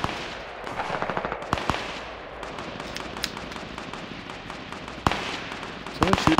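Gunfire in Fortnite during a 50vs50 match: rapid, sharp bursts of shots, some near and some farther off, cracking in irregular clusters over steady background noise.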